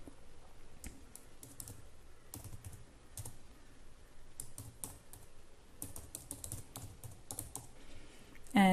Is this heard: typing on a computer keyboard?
yes